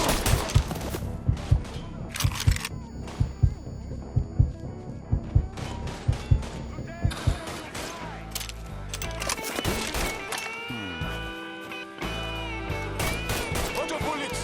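Shotgun gunfire in the video game Mafia 3: a rapid series of heavy booming shots at a steady rhythm, then denser chaotic combat sounds and clatter, with game voices shouting in the background.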